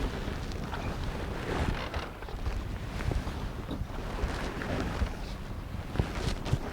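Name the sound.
wind blowing outdoors on a river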